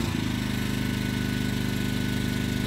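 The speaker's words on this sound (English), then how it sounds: "the Yamaha definitely picked up in RPM if you can hear it" A Yamaha portable generator runs at raised RPM while powering a Pioneer 9000 BTU 110-volt mini-split air conditioner, giving a steady, close mid-pitched engine drone with a faint rhythmic pulse and no talking.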